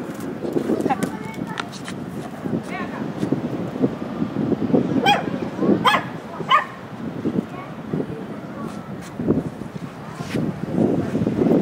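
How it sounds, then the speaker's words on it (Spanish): A dog yips and barks in short repeated bursts amid ongoing talk and background noise nearby. "La gorda ladra."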